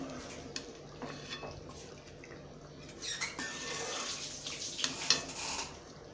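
Mutton curry gravy boils down in a pot to a thick consistency, giving a soft, steady bubbling and spitting with occasional light clinks, fairly quiet and close.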